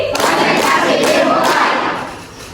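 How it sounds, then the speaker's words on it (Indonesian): Schoolchildren in an Indonesian classroom respond to a colour-call game with a loud burst of group clapping and shouting, dense and close, lasting a couple of seconds before fading. "Kalau ibu bilang warna merah, tepuk tangan 3 kali"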